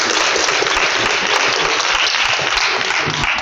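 Steady, dense audience clapping at a conference's closing remarks fills the whole stretch, loud and even, with no voices over it.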